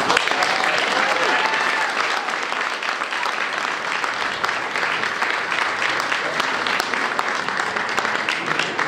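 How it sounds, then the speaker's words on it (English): Steady applause from a group at an evening trip dinner event, a sustained wash of clapping at moderate level that holds evenly throughout. "we'll close with giving Priscilla and Brian a round of applause"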